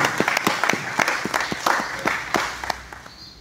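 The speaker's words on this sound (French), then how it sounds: "Si on peut applaudir pour la presse congolaise, particulièrement la presse en ligne" Audience members at an artist's press conference clap for the Congolese press. The claps are scattered and fairly close, with a dozen or so distinct hand strikes in an uneven rhythm that fades toward the end.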